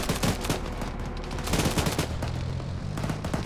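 Sustained suppressing gunfire in the military shooter Arma 3, dense overlapping bursts of rifle and machine-gun fire cracking continuously and loudly with no pauses, from a vehicle-supported squad firing on a bunker.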